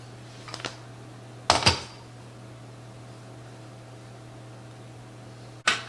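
A metal tart pan clanks a few times in a quiet kitchen while puff pastry is fitted into it, with short sharp rattles spaced apart over a steady low appliance hum.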